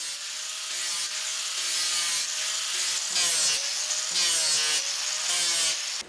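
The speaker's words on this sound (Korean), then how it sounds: "바로 이곳에서 마네킹의 거친 표면을 잡아주는 연마 작업을 이어가게 된다고 하는군요." Continuous abrasive rubbing as the rough surface of a synthetic resin mannequin is sanded, a steady close hiss with repeated back-and-forth strokes and no talking.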